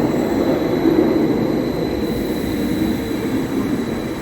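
A steady low rumble and rolling hum of a train at Stadelhofen station in Zurich, constant and fairly close, with no talking.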